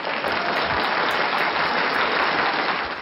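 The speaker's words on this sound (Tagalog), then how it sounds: "Palakpakan na ulit natin si Bloom Ace." Dense, sustained clapping from an audience for a performer during a live online show, loud and steady throughout like a continuous patter with no gaps.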